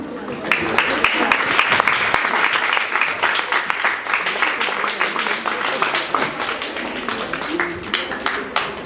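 An audience at a quality-control convention claps steadily and loudly, the individual hand claps distinct within a continuous applause, with some voices underneath.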